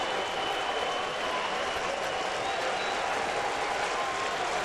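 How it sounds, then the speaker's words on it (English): Baseball crowd at Safeco Field in Seattle on a Sunday afternoon, cheering and clapping in a steady, dense roar that holds level throughout without breaks. "Now the crowd comes to its feet here at Safeco Field."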